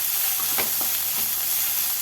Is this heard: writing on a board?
no